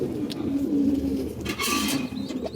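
Giribaz pigeons cooing in low, soft repeated calls, with a brighter burst of rustling or wing noise partway through.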